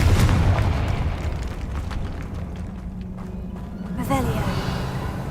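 A Confringo explosion spell in Hogwarts Legacy booms loudly at the outset and rumbles away, followed by a second burst near the end, with a voice briefly heard alongside.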